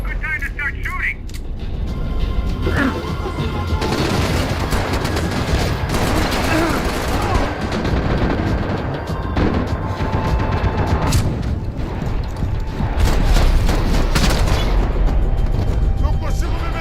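Dense gunfire from the video game Max Payne 3: rapid bursts of automatic weapons and single shots crackle almost continuously, loud and close, with heavy booms mixed in and voices shouting in game over the shooting.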